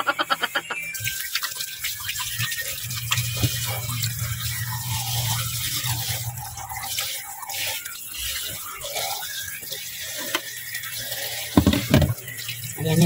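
Tap water runs into a sink while fish is washed by hand for a Batangas-style sinaing na tulingan, a steady close splashing stream with drips and handling clatter, and a faint voice now and then.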